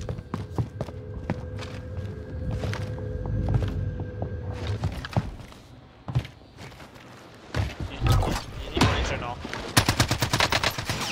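Call of Duty Warzone SMG gunfire, a PPSh-style submachine gun on Rebirth Island, erupts in repeated rapid bursts with sharp cracks and footsteps between, the fire growing denser and louder toward the end.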